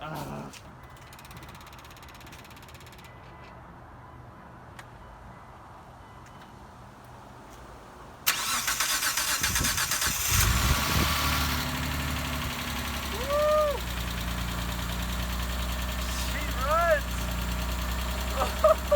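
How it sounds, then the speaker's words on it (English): Mitsubishi Eclipse car engine cranking and starting at about eight seconds, then settling into a steady idle with a light valve tick, close by and loud, with voices talking over it. "I might start her up right now, let you guys watch as she starts up."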